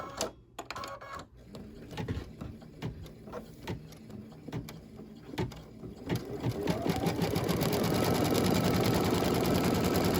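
An embroidery machine stitches a dress boutique scene hanger design, with rapid needle clatter that begins in uneven bursts and then settles into a loud, steady, continuous run close by.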